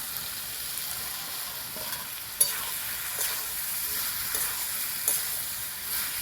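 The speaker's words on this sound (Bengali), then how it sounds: "ভালো করে নেড়ে চেড়ে কষিয়ে নেব।" Pre-fried potatoes and soybean chunks tossed in a hot pan for a spiced curry, with a continuous close sizzle and occasional sharper scrapes and clacks of the spoon against the pan.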